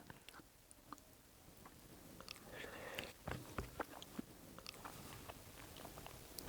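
Khichdi eaten with katta and gongura chutney, a Guntur-style combination served outdoors on a farm, gives close, quiet chewing and biting sounds that start faint and grow into soft, irregular crunchy bites.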